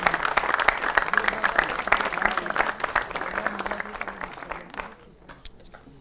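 Studio audience on a Hindi TV debate show applauding to welcome guests, dense steady clapping close up that thins and fades toward the end, with a faint voice underneath.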